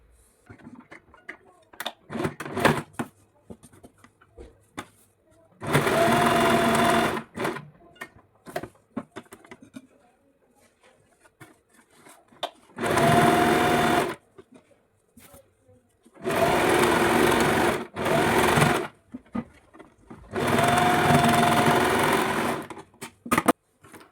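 A sewing machine stitches the side seam of a blouse in four separate bursts of steady, close whirring, with quiet pauses and light handling sounds between runs.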